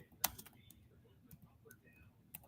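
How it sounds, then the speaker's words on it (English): Typing on a computer keyboard gives a few soft, scattered key clicks, with one sharp louder tap near the start, all quiet and close. Faint background speech sits underneath. "I'm typing something."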